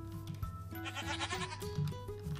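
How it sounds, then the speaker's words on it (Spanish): Goats bleat repeatedly in Minecraft, several wavering calls overlapping close by over a steady droning background tone. "Son las cabras que tenemos nosotros en el corral"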